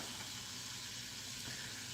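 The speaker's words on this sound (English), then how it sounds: "I'm going to throw the broccoli in here with the chicken fat. Throw a little bit of water in, throw the lid back over it." Broccoli steaming in a covered pan with chicken fat and a splash of water, giving a steady, even hiss and soft sizzle that holds at a constant low level throughout, with no talking.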